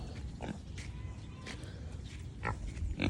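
Pigs grunt and snort in short bursts over a low, rumbling background, with a few louder squeals and grunts near the end.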